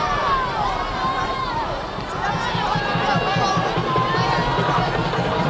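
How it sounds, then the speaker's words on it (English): Women's professional soccer crowd at a 2013 NWSL Kansas City v Portland Thorns match, a broad sustained roar of disapproval after a penalty kick is awarded, steady and enveloping from many voices in the stands. "Now here come the boos."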